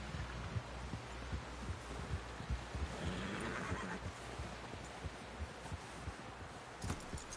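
A horse in the Western video game Red Dead Redemption 2 snorts and whinnies at close range, with hoof clip-clop and low thumps scattered throughout.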